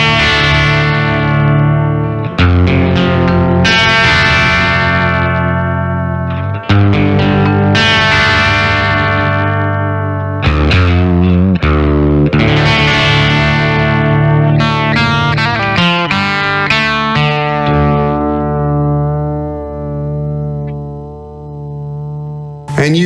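Electric guitar through the fourth setting of the Zoom MS-50G Shallow Water preset, loud chords and single notes ringing with a wobbly, modulated shimmer and long sustain, separated by brief pauses, played alone.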